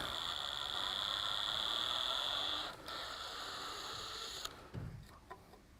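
A stripped Phillips screw is backed out using a rubber band pressed between the bit and the screw head. A steady high whine runs for a few seconds, shifts briefly, then stops, followed by a few small clicks.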